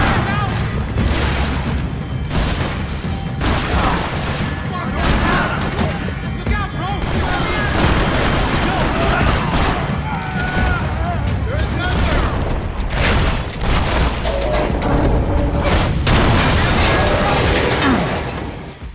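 Dense gunfire and booming explosions from Max Payne 3 run almost nonstop, loud and busy, with crashes and mechanical clatter mixed in beneath a talking voice.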